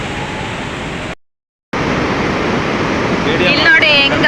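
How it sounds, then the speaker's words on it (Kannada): Water thunders through the open spillway gates of the Aruvikkara dam near Trivandrum, a steady broadband roar that cuts out briefly, then resumes loud and close with a faint voice near the end. "ಇಲ್ಲಿ ನೋಡಿ ಹೆಂಗೆ ಹರಿದೋಗ್ತಾ ಇದೆ ನೀರು ಅಂತ."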